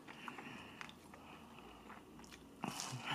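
Biting and crunchy chewing of breakfast food during a casual mukbang, a few soft close bites and munches spread over a quiet room, with a louder crunch near the end.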